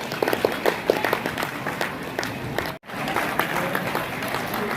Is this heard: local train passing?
no